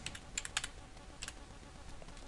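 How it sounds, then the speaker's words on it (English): A few quick computer keyboard arrow-key presses during 3D modelling work, sounding as soft, close clicks in small clusters with pauses between, over a faint steady room hum. "I'm going to fine tune with the arrow keys"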